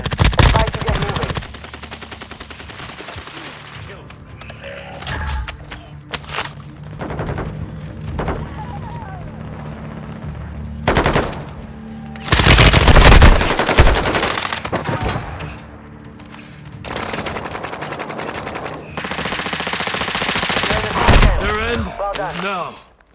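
Automatic and single gunfire bursts in the Warzone 2.0 shooter game, repeated sharp volleys scattered through the stretch with dense loud clusters, mixed with game effects and occasional voice chatter.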